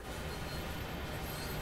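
A BR 185.2 electric locomotive pulling a freight train in Train Sim World 3 starts moving, a dense, steady rumble and hiss of motors and wheels, close and continuous.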